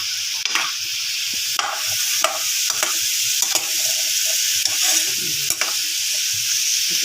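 Sliced sayote stirred with pork belly in a hot frying pan, a steady close sizzle of frying with repeated scraping clicks of the utensil against the pan, no voices.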